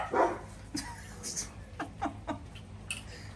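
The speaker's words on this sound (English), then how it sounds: "Crazy dogs." Several short dog barks and yips scattered over a few seconds, fairly close, with a steady background hum.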